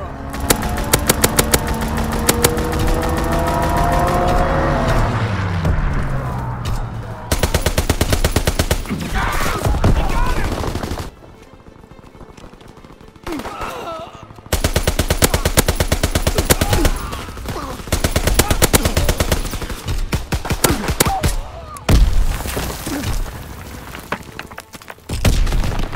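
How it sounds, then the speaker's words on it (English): Aircraft strafing run in a Call of Duty WWII team deathmatch on the Shipment map, loud sustained bursts of rapid machine-gun fire and booming impacts, broken by brief lulls, with an engine drone early on. "Call for a strafing run."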